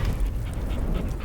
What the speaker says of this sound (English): But where is the dog?